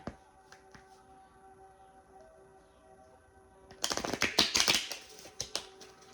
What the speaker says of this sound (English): All right, shuffle one more time.